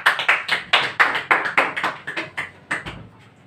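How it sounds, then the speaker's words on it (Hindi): Sharp, close claps or taps strike about a dozen times in a fairly steady rhythm during a vocabulary class, each one crisp and quickly decaying. The beats grow slightly softer and sparser toward the end. "ताली बजा दी इसके लिए"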